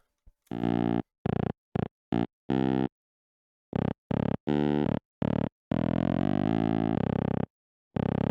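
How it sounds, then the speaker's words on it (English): A distorted synth bass riff using a hybrid preset plays alone in short, choppy stabbed notes with gaps, then a few longer sustained tones, buzzy and harmonically rich. "I made this bass line"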